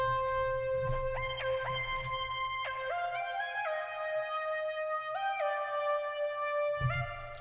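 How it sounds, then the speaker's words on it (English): Thor synthesizer patch named Electric Flute, playing a smooth, soft legato melody with gliding pitch changes over a low sustained bass layer, steady and alone with no voices. "I added this other Thor patch called Electric Flute, which sounds like this."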